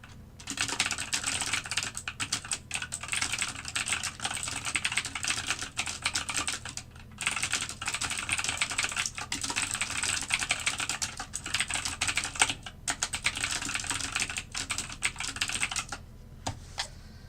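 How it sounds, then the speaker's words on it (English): Close, continuous typing on a computer keyboard clatters in rapid bursts of keystrokes, broken by a few short pauses, with no talking. "there's too much typing today"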